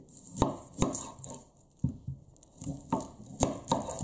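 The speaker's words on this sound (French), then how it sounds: "On va commencer avec l'oignon rouge, donc on va l'émincer." A knife chopping red onion on a cutting board, about a dozen crisp, close thuds in an uneven rhythm with short pauses between strokes.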